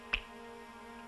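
Two crisp finger snaps about a second apart, sharp and fairly close, over a quiet steady background hum with no speech.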